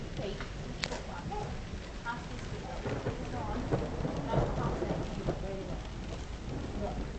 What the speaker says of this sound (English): So the rain's coming straight down at you.